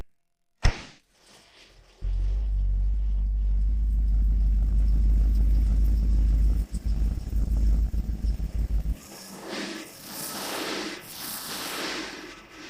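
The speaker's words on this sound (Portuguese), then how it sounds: "Que tal eu ficar perto do escapamento e você ligar o carro? Isso mesmo, uma Van Dodge de 78." A 1978 Dodge van engine, built to roughly 700 horsepower in an ambulance body, heard close to the exhaust: a brief click and then silence, followed by a thunderous deep idle with a lumpy rumble that drops away into fainter, breathier noise near the end.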